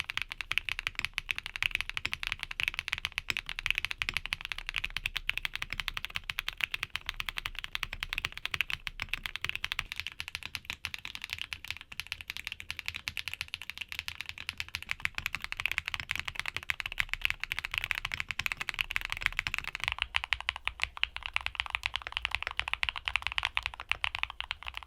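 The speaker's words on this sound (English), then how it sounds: "here are back-to-back sound tests of all the switches we talked about today" Back-to-back typing tests on a series of linear mechanical keyboard switches: dense, continuous clacking keystrokes heard close and alone, with a brief shift in tone near the end as another switch takes over.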